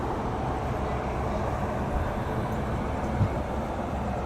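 An LHB passenger train pulls out of Kolkata station, a steady, even rumble of wheels and carriage noise heard from inside, loud and continuous with no voices.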